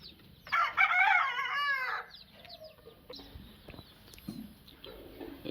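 A rooster on a farm in Kadapa gives one loud, clear crow lasting over a second, followed by quieter clucks and scattered farmyard sounds.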